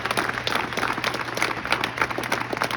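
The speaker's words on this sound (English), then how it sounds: "let's give one more round of applause to Carson and Shy" A room of people applauds two honorees, Carson and Shy, at a school gathering with a volleyball team present; steady, dense clapping continues at even loudness throughout.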